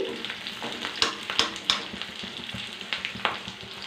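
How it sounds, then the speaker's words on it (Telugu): Crackling sizzle of green chillies frying in oil, close up, with sharp pops and spatters breaking through at irregular moments. "పచ్చిమిరకాయలు కాడ దీంట్లో వేపుకున్నామండి"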